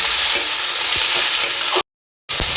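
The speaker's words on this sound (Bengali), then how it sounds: "এবার আমি বেগুনগুলো দিয়ে দেবো, একদম দিয়ে এর সাথে নাড়াচাড়া করে দেবো।" Eggplant pieces fry loudly in oil in a pan for a morola fish dish. A bright constant sizzle runs under soft stirring scrapes and cuts out briefly before resuming.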